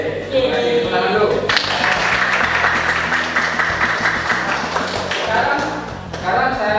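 Students in a classroom clap together in a loud, dense burst of applause that holds steady for several seconds, with a few voices mixed in at the start and end.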